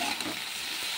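Saag greens cooking in a pan give off a short, soft sizzle with a light stirring rustle, fairly close and even.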